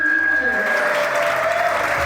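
Steady applause from an awards-ceremony audience fills the room, loud and continuous, with a faint tone held underneath.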